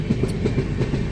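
A passenger train rolls on its rails with a steady low rumble and faint rhythmic clatter, close and continuous, no voices.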